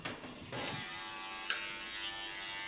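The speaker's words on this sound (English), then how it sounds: "Gonna work first with the clipper comb." An electric hair clipper fitted with a clipper comb buzzes steadily while shaving a nape, quiet and close, with a brief click partway through.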